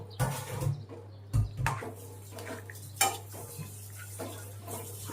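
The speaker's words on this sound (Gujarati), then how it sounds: "હવે આને બરાબર મિક્સ કરી લઈએ" A spoon stirs soaked chickpeas into a curry in a pot, scraping and clinking in a few separate bursts over a steady low hum, with faint sizzling between.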